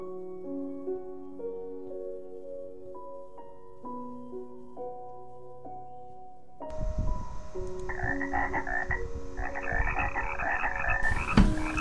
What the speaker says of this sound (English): Tree frogs with their sticky toes can climb up our water plants and our trees.